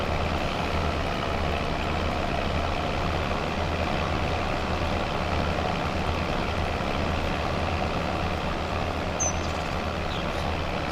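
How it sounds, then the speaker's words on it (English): A Ford tractor engine in Farming Simulator 25 runs at a steady low drone for the whole stretch, loud and unbroken, with no voices over it. "We get to use our Ford tractor."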